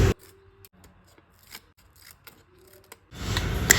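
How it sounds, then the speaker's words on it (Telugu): Scissors snip newspaper into small pieces for nail art, with quick separate close cuts spaced through the quiet and a louder rustle of paper at the end. "న్యూస్ పేపర్లో టెక్స్ట్ ఎక్కువ ఉన్న పార్ట్ని చూస్ చేసుకొని పీసెస్ కింద కట్ చేసుకొని"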